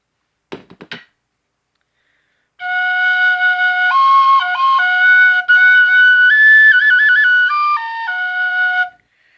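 A small flute-type wind instrument, smaller than the one before it, plays a clear, steady run of sustained notes that step up and down in pitch, close and fairly loud, after a few brief knocks.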